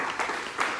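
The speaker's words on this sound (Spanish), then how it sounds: "Dele un aplauso fuerte al Señor" A church congregation claps in praise after the worship leader calls for applause to the Lord, producing two short swells of hand-clapping within a brief, moderately loud burst.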